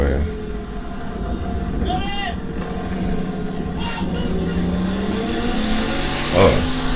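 Turbocharged street race cars at a Texas street race accelerate hard, their engine notes rising and sweeping past. Tires squeal briefly and the crowd noise stays steady beneath.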